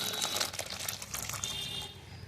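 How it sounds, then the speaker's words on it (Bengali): Water poured from above onto a potted plant on a rooftop garden, soil covered with leftover rice, a soft splashing trickle with crinkly patter lasting a couple of seconds, fairly quiet and close. "এবারে আমি জল দিয়ে দেবো"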